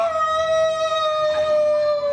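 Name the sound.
performer imitating a werewolf howl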